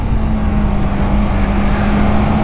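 A Yamaha R3 motorcycle being ridden on a calm evening lap, its engine giving a steady, loud drone with a constant tone and little change in pitch throughout.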